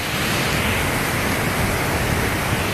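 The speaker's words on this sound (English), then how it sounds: "and the waterfall coming up" Steady roar of a waterfall on a slippery hiking trail, loud, dense and continuous broadband rushing with no breaks.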